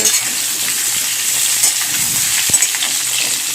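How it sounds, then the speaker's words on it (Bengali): Potatoes fry in a pan with a continuous bright sizzle of hot oil, close and steady, with faint scraping of stirring now and then. "আলু ভাজতে না অনেকটাই সময় লাগে"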